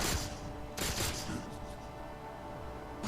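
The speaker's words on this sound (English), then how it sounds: "I'm peppering him with a plasma pistol" Plasma pistol fire in Halo 4 campaign combat, a rapid run of bright crackling shots with thumping impacts, loudest at the start and around the one-second mark, then continuing more faintly over background game noise.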